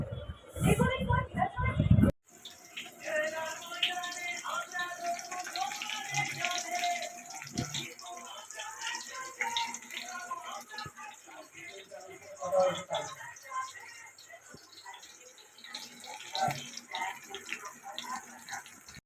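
Running tap water splashes over sandy vegetables being washed in a sink, a steady stream with occasional drips and clatter, while someone talks over it.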